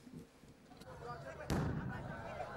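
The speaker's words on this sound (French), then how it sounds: "des coups de canon mixés au son des tam-tam" A ceremonial cannon shot booms once mid-clip at a crowded royal homecoming celebration in Burkina Faso, with rumbling crowd noise and drumming around it and a voice speaking over the scene.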